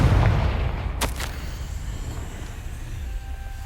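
A fiery blast from the Confringo spell in the Hogwarts Legacy video game booms up loudly at once, then a sharp crackling hit follows and a deep rumble fades away.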